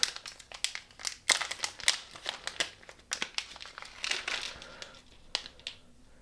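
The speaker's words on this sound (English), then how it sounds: "Let's open up this little bag, see what's inside of it." Small plastic bag of heatsink parts for a Radxa X4 N100 mini PC being opened, a close run of crisp crinkling and rustling bursts with sharp spikes, continuous and fairly loud.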